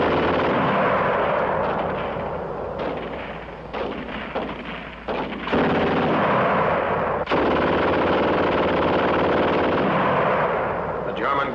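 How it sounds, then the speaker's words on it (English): German WWII gun firing rapidly, loud sustained bursts of fast shots with rattling reports that run nearly continuously, under an old, band-limited soundtrack. "Gun shoots fast."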